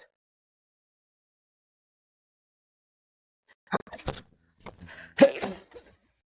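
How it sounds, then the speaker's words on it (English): A few short, sharp coughs break a long silence, clustered near the end and fairly close. "the coughing is getting worse because I'm talking"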